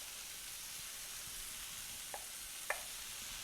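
Grated beets and onions frying in a pan, a steady soft sizzle with a couple of brief clinks or stirring taps near the end.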